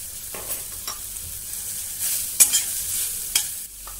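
Radish leaves stir-fried with salt and turmeric in a pan, scattered spatula scrapes and knocks over a soft, low sizzle, close up with no speech.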